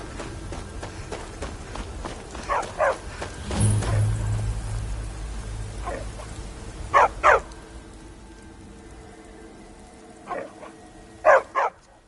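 A dog in the video game Skyrim barks in short pairs of yelps at a few spaced moments, over a steady background hiss like rain, with a thump and rumble early on.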